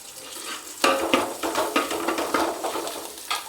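Curry leaves dropped into hot oil with sautéed shallots in a pan for chicken curry, a sudden loud sizzle burst followed by crackling and repeated stirring scrapes, close up, with no talk.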